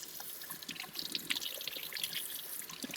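Water trickles and splashes softly while an orchid plant is rinsed off, a quiet, continuous run of small drips and patters with no voices.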